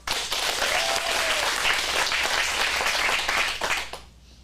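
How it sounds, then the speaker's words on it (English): Loud, dense applause from an audience at a teen acting studio script showcase, sustained evenly for about four seconds with a brief voice heard within, then quickly dying away to near silence. "Get a round of applause."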